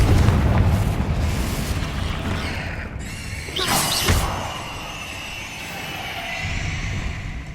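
A Confringo blast spell from Hogwarts Legacy bursts with a loud rumbling boom over continuous dense game ambience, followed by a fading roar.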